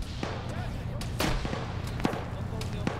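Grenade blasts and gunfire in an Arma 3 Zeus operation: several sharp explosive cracks and booms scattered over a few seconds, some close and heavy, others lighter, over a rumbling battlefield background.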